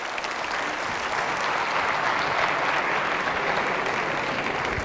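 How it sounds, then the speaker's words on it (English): Sustained audience applause at a TEDx talk in Chandigarh, India, greeting a volunteer called to the stage; steady, dense clapping fills the hall throughout without pause. "Give him a round of applause as well,"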